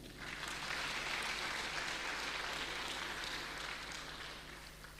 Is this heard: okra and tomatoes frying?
no